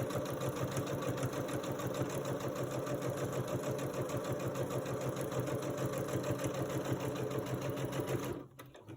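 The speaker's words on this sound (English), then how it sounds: "I'm actually sewing again" A sewing machine runs continuously and close by, stitching quilt pieces. It makes a steady, rapid mechanical whir with dense needle rhythm for about eight seconds, then stops abruptly.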